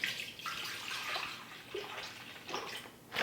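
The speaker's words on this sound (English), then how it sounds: "So to make my smoothie, I add 8 cups of soy milk first." Soy milk poured into a blender for a smoothie, a steady liquid splashing and trickling that swells and fades in a few bursts over roughly three seconds, close and fairly quiet with no talking.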